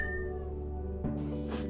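Soft, harmonic meows from a cat in a home interior, one drawn-out call followed by a couple of shorter ones, faint and close over a low background hum.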